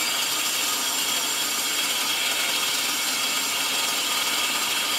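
Villager VLP 5320 cordless impact driver rated at 400 Nm, straining to loosen a tight bolt with a socket. It gives a loud, continuous buzzing rattle that runs unbroken for the whole stretch with no talk.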